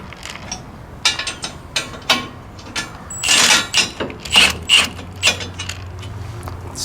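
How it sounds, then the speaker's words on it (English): Impact gun snugging bolts on a Woodland Mills HM126 sawmill head, heard as a series of short, sharp rattling bursts of varying length, close and fairly loud, separated by brief pauses. "We'll grab our gun and we'll just snug them."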